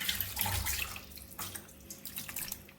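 Tap water runs steadily and splashes into a sink while raw chicken is washed under it, a close, continuous gushing with small shifts as the stream hits the meat.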